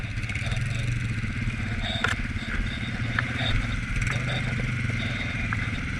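Steady low engine drone from a 2021 Honda Rubicon 520 ATV with foot shift while riding, a continuous rumble throughout with a brief clatter near the middle.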